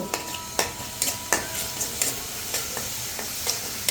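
Spices with salt and cumin powder sautéing in a pan for a koi fish curry, a continuous sizzle broken by regular sharp scrapes and taps of a spatula stirring close by.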